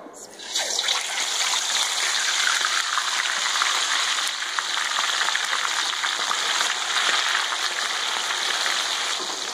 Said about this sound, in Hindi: और अब हम यहाँ पे चिकन फ्राई कर लेते हैं।